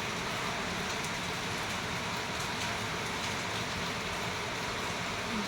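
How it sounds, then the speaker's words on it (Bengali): Light rain falls steadily in a dense, even wash of hiss with no breaks, heard close and fairly loud for its whole length. "বৃষ্টি পড়ছে টুকটাক করে,"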